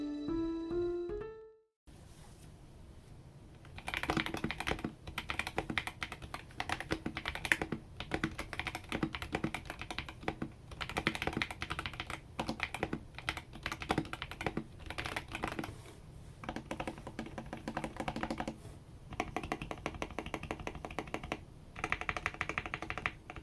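Typing on a CIY Tester 68 mechanical keyboard fitted with Outemu Panda switches and two layers of tape inside, a dense, continuous run of close clacky keystrokes after a brief opening sound.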